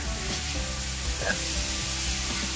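Potatoes fry in oil tempered with cumin and dried chilli, giving a continuous soft sizzle with faint stirring scrapes, fairly quiet and steady, with no clear talk.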